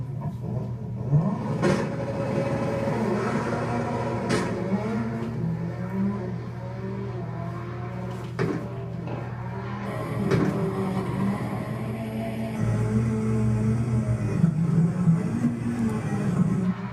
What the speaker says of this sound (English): I hope to drift like Ken Block in the video I'm about to show everyone.